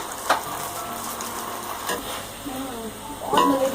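Green onions stirred into vegetable macaroni frying in a pan, a continuous close sizzle with scraping and clatter of the spoon, louder toward the end.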